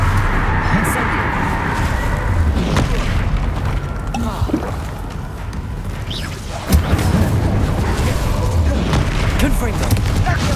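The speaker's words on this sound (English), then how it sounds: "Incendio." The Incendio fire spell is cast in Hogwarts Legacy amid loud, continuous combat with rumbling booms and bursts, with a voice speaking over the dense battle noise.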